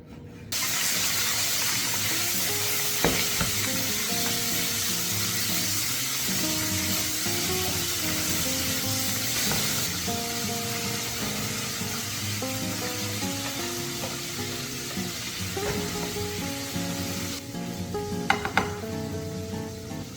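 Beef fries in a pan with a steady, close sizzle and hiss that runs for a long stretch, with a tonal, music-like layer over it and no talking.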